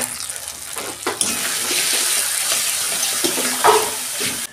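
Ghugni spice masala is sautéed with a little water in a pan. The sizzle builds into a loud, steady, bubbling hiss, broken by a few clinks and stirring scrapes.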